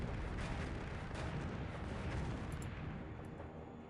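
Booming explosions from destroying Condor units in the strategy game Earth 2150: The Moon Project, a dense rumbling roar of blasts layered together at moderate level, with no talking.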